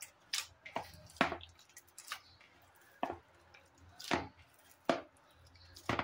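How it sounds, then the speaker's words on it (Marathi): Soft puran poli dough kneaded by hand with wet fingers, producing a series of close, irregular squishy slaps and pats roughly every half second. "छान मळून घ्यायचं."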